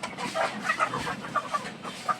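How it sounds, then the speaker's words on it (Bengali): Young Egyptian Fayoumi chickens, a flock of roughly forty to fifty cockerels and hens on a farm, cluck and peep in short, scattered bursts close by, with no voices. "এখানে প্রায় 40 থেকে 50 পিস বাচ্চা মোরগ মুরগি রয়েছে"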